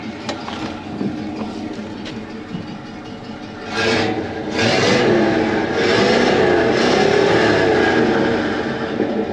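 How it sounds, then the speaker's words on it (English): A Chevrolet squarebody pickup with a Flowmaster exhaust idles with a low rumble, then about four seconds in the engine is revved up and held at a louder, rising roar that slowly fades back down. "Let me rev it up for you."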